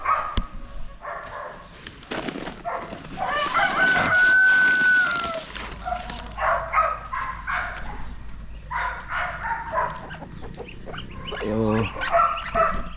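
On a backyard farm with feeding chickens and ducks, a rooster crows near the middle amid clucking fowl and intermittent dog barks, a busy mix of animal calls over several seconds with no talking.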